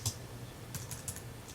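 Keys clack on a computer keyboard, a few faint, quick taps spaced irregularly as a school name is typed in a quiet room.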